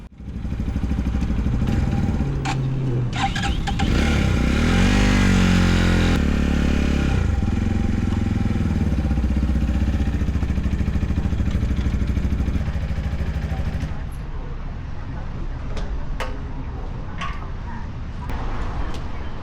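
A fuel-injected 250 Walmart motorcycle engine idling and revving close by: a steady mechanical clatter and drone that swells around the middle, then drops to a lower idle, with occasional clicks and voices over it.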